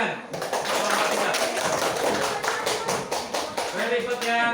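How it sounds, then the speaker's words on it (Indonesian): Classroom applause for the third student group, a steady patter of many hands clapping that fills the room and fades at the end, with voices heard over it. "Kita kasih semangat, tepuk tangan."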